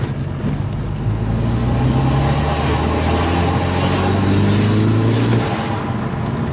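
Exhaust of a Hyundai Veloster fitted with a Go Fast Bits DVX valve in bypass mode, under slight throttle up a driveway: a continuous low, droning rumble whose pitch rises gently as the engine pulls, loud and close.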